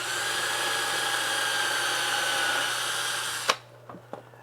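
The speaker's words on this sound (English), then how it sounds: "now we can come in here and drill additional holes" A power drill bores holes in a door to mount a magnet latch, a steady whining motor drone that runs for about three and a half seconds, then cuts off abruptly, followed by a couple of small knocks in near quiet.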